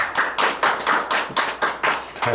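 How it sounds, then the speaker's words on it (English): Studio crew applauding guests on a talk show, a small group giving rhythmic, evenly spaced claps, close and fairly loud with no talk over it. "everybody applauded at that time"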